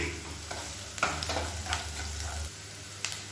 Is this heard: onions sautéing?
yes